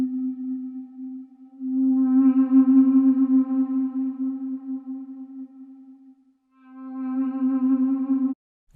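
A long vocal sample from the free Aria Libera instrument holds a steady sung tone, swelling in brighter harmonic layers, fading out, then returning briefly before cutting off, with no speech.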